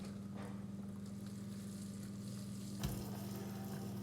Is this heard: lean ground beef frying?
yes